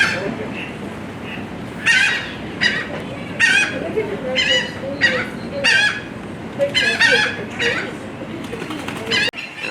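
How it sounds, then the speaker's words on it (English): Ducks at a pond in the Fort Worth Zoo in Texas let out repeated honking, quacking calls in irregular bursts over steady outdoor background noise. "There's several ducks in here also."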